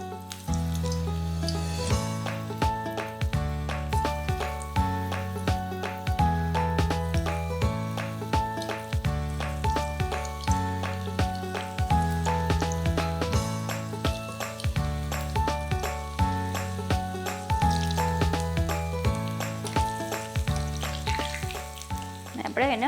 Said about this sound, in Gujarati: હવે આપણે એક એક કરીને તળી લઈએ.